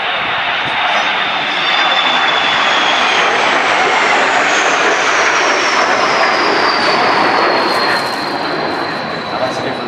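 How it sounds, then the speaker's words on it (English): A Saab SK60 and a J-29 Tunnan jet fly past over a waterfront air display, a loud sustained roar with a high-pitched whistling whine that sweeps downward as they pass, with a commentator speaking over it. "with a high-pitched whistle of the jet engines"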